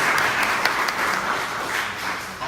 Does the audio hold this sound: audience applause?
yes